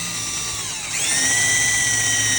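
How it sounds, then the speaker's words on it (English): A power drill whines steadily while re-drilling a hole in a shaft, its motor pitch rising and settling into a loud, sustained high-pitched drone as it bores through material. "So then we just basically re-drill the hole"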